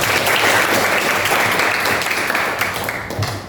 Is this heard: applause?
yes